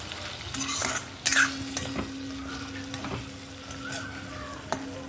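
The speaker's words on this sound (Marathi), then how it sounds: "आता या मटणाला आपण त्या मसाल्यामध्ये परतूया" Mutton is stir-fried in masala in a pan, with a steady close sizzle and several sharp scrapes and clinks of a spatula against the metal. No one speaks.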